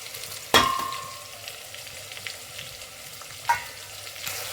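Whole spices, peppercorns, shahjeera, fennel and mace, fry in a pan for chicken biryani, opening with a sharp metal clang and then a soft, continuous sizzle with occasional stirring scrapes.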